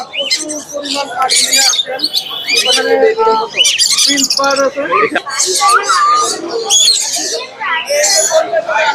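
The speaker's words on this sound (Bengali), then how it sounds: "হাতে এটা লরি পাখি ভাই লরি পাখি অনেক সুন্দর কথা বলা" Lory parrots at the Mirpur bird market shriek and chirp loudly and nonstop, a close, dense chorus of squawks and whistles.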